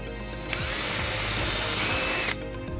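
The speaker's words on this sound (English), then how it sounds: "So what we're first gonna do is drill the back hole." A power drill whines at high speed for about two seconds, boring a hole for a trailer wiring harness on a 2015 Volvo XC90. It starts and stops abruptly, loud and close.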